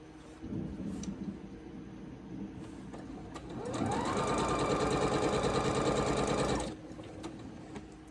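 A sewing machine stitches a scrappy spools quilt block, starting with brief short bursts before running steadily for about three seconds in a loud, close, continuous whir that stops abruptly.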